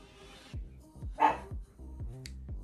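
A dog barks several times in the background, short muffled woofs spaced roughly half a second apart, faint and distant in a quiet indoor room.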